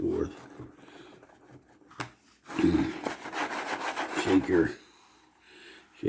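Magnetic sand removal tool rolled back and forth through sand, producing gritty raspy scraping in irregular strokes, loudest in a sustained middle stretch, with someone talking over parts of it.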